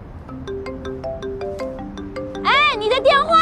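A mobile phone rings with a melodic ringtone, a tune of bright, rising chimed notes playing clearly, swelling into a louder warbling passage near the end.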